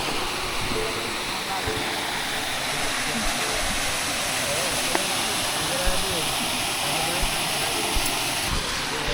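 Water flowing along a mountain trail stream on Tarak Ridge in Mariveles, Bataan, a loud continuous rushing hiss that fills the whole clip, with voices talking faintly underneath.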